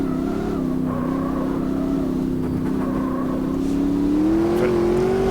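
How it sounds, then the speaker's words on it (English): A big V8 under the bonnet of a race car in Automobilista 2 rumbles steadily and loud, its pitch sagging slightly, then climbing as the revs build toward the end, with no voices. "Big rumbly V8 under the bonnet as well."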